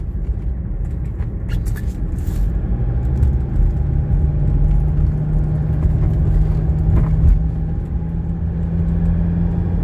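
A 1985 Mercedes 300D diesel car driving at easy speed, with a steady low engine rumble and road noise from inside the cabin, continuous and without talk.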